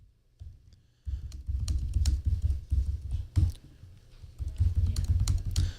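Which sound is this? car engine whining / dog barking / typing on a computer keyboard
typing on a computer keyboard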